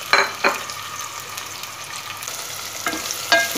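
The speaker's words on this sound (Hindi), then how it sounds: "प्याज डाल दिए। प्याज को मैं लाइट ब्राउन करूंगी।" Onions frying in a pan with black pepper and cloves for aloo matar pulao, a steady close sizzle broken by a few sharp stirring scrapes.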